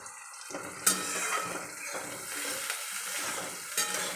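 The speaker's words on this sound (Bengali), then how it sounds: "কালো জিরে ফোড়ন দিয়ে পেঁয়াজ লঙ্কাটা দিয়ে দিয়েছি। পেঁয়াজ লঙ্কাটা একটু ভাজা ভাজা হয়ে যায়" Onion and green chili sizzle in hot oil in a pan with nigella seeds, a steady close frying hiss with brief stirring clatters and a faint watery trickle, no talking.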